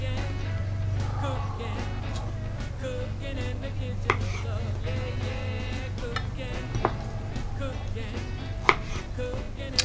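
A knife slices strawberries on a board, giving a few sharp, irregular cuts and taps close by over a steady background hum in a kitchen.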